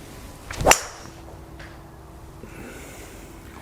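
A single sharp swish and crack as a Titleist TS2 hybrid strikes a golf ball outdoors, one loud close impact followed by quiet air and faint background hum.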